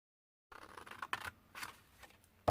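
Scissors cutting lines in card up to a score line while making an Easter basket, with a few short quiet snips and rustles close by, no talking.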